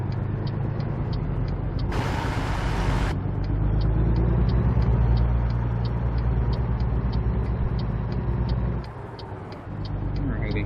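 A heavy truck pulling out from a standstill in American Truck Simulator, a steady low diesel rumble with a short burst of air-brake hiss, a rhythmic ticking, and a brief dip in engine noise near the end, with someone talking over it.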